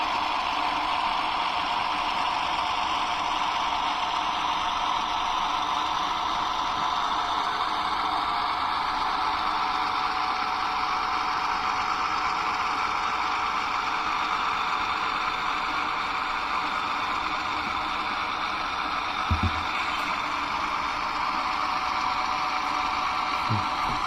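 Steady, even hum of a model GEVO locomotive idling on a model railway layout, constant and moderately loud throughout with one faint click near the end and no talk.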